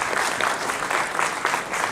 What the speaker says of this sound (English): Please give a round of applause for Krista Peterson, who's been one of our wonderful volunteers.